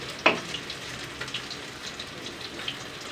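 Fish sizzles as it fries in oil in a pan, a constant soft crackle with scattered small pops and one sharper spit near the start, heard close and alone.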